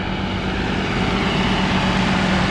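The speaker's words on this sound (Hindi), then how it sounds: "ये ट्रैक्टर आ रहा है" A tractor drives near a wheat harvest in Pakistan, its engine a steady, loud, low rumble that stays constant throughout with no voices.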